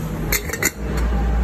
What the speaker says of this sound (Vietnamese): cái chảo nhôm. Cái chảo chiên trứng nhôm này.